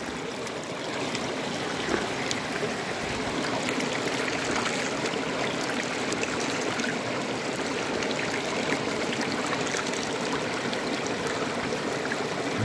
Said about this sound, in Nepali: राम्रो बगिरहेको छ पानीहरू, चिसो पानी छ